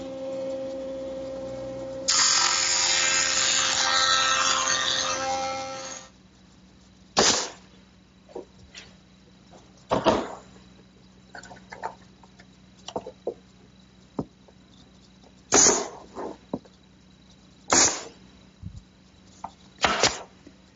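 A jointer planes 3/4 inch wood stock in a workshop, a loud whirring cut for a few seconds that then stops, followed by a series of sharp knocks and clatters of wood being handled.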